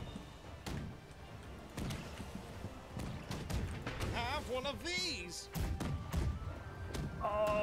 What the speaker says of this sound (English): Load the cannons on the port side with grapples.